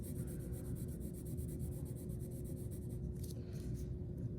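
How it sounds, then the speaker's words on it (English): Colored pencil rubs over paper in fast, small circular shading strokes, a soft continuous scratchy rasp with a quick pulsing rhythm, close and quiet, over a low steady room hum. "Kind of in circular motions, moving your pencil a lot, going really fast."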